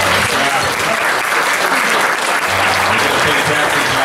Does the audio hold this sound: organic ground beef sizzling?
no